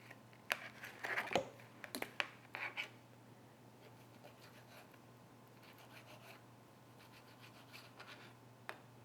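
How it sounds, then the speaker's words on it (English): A knife works through salmon in a home kitchen, sharp scraping strokes and clicks against a cutting board clustered early and thinning into occasional faint scrapes over a steady low hum, no talking. "now I am cutting the salmon into smaller pieces"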